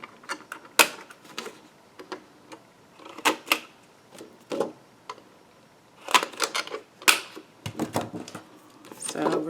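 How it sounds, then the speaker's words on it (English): A corner rounder punch chomps through the corners of laminated paper, giving a series of sharp, close mechanical clicks and crunches in irregular clusters, with quiet pauses and handling between cuts. "So you're just going to corner chomp all four corners."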